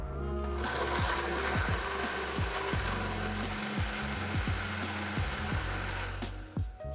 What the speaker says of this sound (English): Now I'm just gonna blend this all up until it's super smooth and fluffy